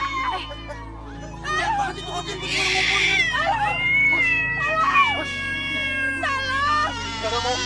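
A cat meows loudly and repeatedly, some cries drawn out and wailing, while people talk nearby over a low background hum.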